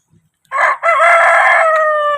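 Rooster crowing loudly and close on a Filipino backyard farm with Rhode Island Red, Andalusian and native chickens, one long drawn-out crow alone after a faint soft cluck.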